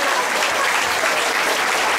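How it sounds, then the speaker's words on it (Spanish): Crowd applause during a religious procession for Jesús del Rescate in Rivas, a continuous, fairly loud wash of clapping. "¡Un aplauso a Jesús del Rescate!"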